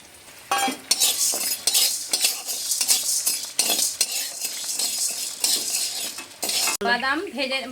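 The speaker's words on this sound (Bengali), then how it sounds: "নারকেলের চাটনি বানানোর জন্য প্রথমে চানা ডাল ভেজে নেব" Chana dal frying in a pan for coconut chutney, with loud close stirring and scraping of a metal utensil in rapid strokes over a steady sizzle; no talking.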